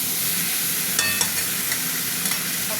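Curry with tomato frying in a pan and being stirred: a steady close sizzle with a few brief scraping clinks from the utensil.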